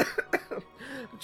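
A man coughs several times in quick succession, close and sharp bursts followed by a brief throaty vocal sound.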